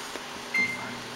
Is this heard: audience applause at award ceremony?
no